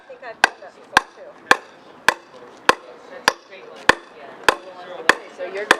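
Hammer blows during a house build, likely nailing tar paper at a roof edge, land in a steady series of about ten sharp, loud strikes roughly half a second apart, with faint chatter and work noise between them.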